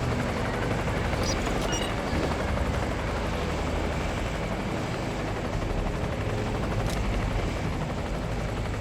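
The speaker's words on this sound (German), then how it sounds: "Pass auf, das war der Helikopter." Helicopter in the video game Ghost Recon Advanced Warfighter, a steady dense rotor roar filling the whole clip, with a few faint sharp bursts like distant gunfire mixed in.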